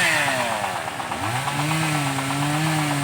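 A chainsaw cuts through wood up close, its engine whining loud and steady, pitch dipping and climbing as the chain bites into the wood.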